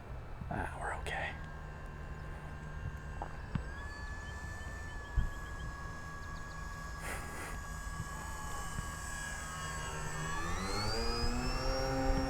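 A Durafly Gloster Gladiator RC model biplane flies on an old, slightly flat battery into a headwind, its electric motor whining as a steady tone that climbs in pitch near the end, with quiet talk under it.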